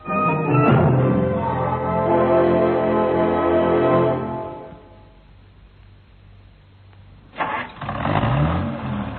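A new car's engine starts with a loud crank and settles into a revving, rumbling run. It fades to a quiet idle, then flares up again near the end, close and full.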